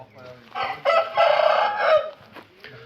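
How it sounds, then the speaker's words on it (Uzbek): A rooster crows once at close range, one loud drawn-out call lasting about a second and a half, with faint background noise before and after. "Bular xo'roz bo'lib ketgan-ku."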